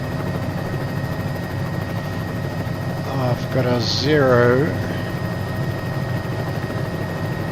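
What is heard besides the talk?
Bell 206 helicopter in a flight simulator video game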